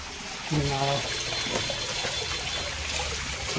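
Cold river water flows and trickles steadily close by, a continuous watery rush with a brief low voice near the start.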